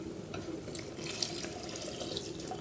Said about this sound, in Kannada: ಮಿಕ್ಸಿ ಜಾರಿಗೆ ನೀರು ಹಾಕ್ಕೊಂಡು ನಮಗೆ ಎಷ್ಟು ಬೇಕೋ ಅಷ್ಟು ನೀರು ಹಾಕ್ಕೊಳ್ಳಿ